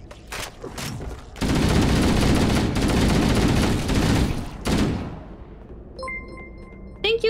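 Heavy automatic gunfire from the video game Halo: Combat Evolved, a sustained loud burst of rapid shots broken by short pauses, then a final short burst, followed by faint game interface beeps near the end.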